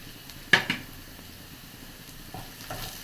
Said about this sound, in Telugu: ఉల్లిపాయ ముక్కలు ఉన్నాయి కదండి, అవి కూడా వేసుకుందాం. పచ్చిమిరపకాయ ముక్కలు కూడా వేసుకుంటున్నామండి.